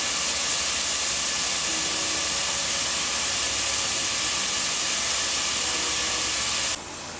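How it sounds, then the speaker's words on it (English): Onion sizzles in a hot pan with a steady, loud hissing sizzle that fills the clip without pause, then drops slightly at the very end. "So we got our onion sizzling here."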